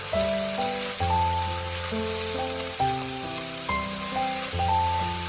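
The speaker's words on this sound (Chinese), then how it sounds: "再把花甲倒进来，接着开大火，快速的翻炒均匀" Clams are stir-fried over high heat in a wok. A steady sizzle and crackle of frying runs throughout, with bright spatters, under background music.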